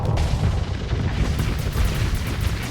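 Heavy torpedo impacts pound a ship in the space combat game Starsector, a dense continuous rumble of booming blasts with sharp crackling bursts layered on top, loud and sustained throughout.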